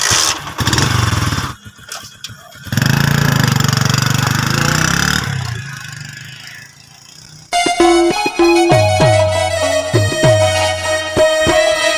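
A motorcycle engine runs loudly and close, revving and cutting in and out for several seconds, then gives way to music for the rest of the stretch.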